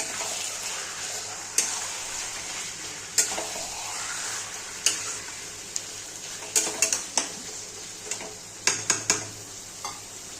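Chicken is stirred into spice masala in a pan, a soft continuous sizzle broken by scattered scraping knocks of the spoon against the pan, growing busier toward the end.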